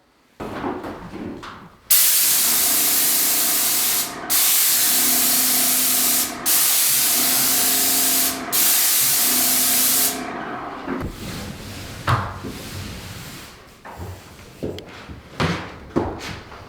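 Paint sprays in long hissing bursts inside a small closet being fitted with a custom closet system, several loud sustained blasts separated by short pauses, followed by softer knocks, rubbing and handling sounds.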